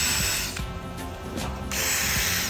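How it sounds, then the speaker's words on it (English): A power drill unscrews screws from bracing, its loud, close motor whine running continuously and briefly dipping in pitch mid-run before speeding up again. "what I recommend doing is unscrewing the screws that are holding"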